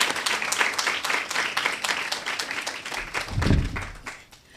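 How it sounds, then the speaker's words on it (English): An audience at a distinguished lecture applauds the managing director of RBC FINCO, a moderate wash of clapping that swells and then tapers off toward the end. "Let's give him a round of applause"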